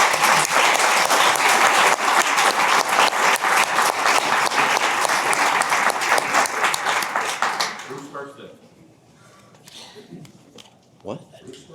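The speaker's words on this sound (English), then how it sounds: "If we'd all give them a round of applause." Sustained applause from a ceremony audience greets Hall of Fame inductees, loud clapping that dies away around eight seconds, followed by a quieter room with a few scattered noises.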